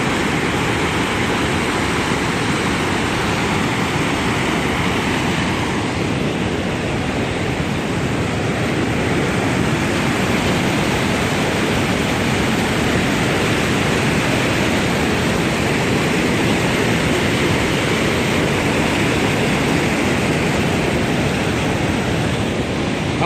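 Flowing river water rushes in a steady, dense, broadband hiss that stays loud and unbroken throughout, close by, with no voices.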